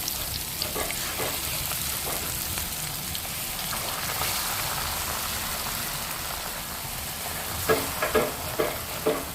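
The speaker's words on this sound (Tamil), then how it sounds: "இங்கே எண்ணெய் சூடாயிட்டு மீனை பொரிக்க போடுவோம்." Hot oil sizzles and crackles steadily up close as fish fries in a Sri Lankan kitchen, with a few louder spits and pops near the end.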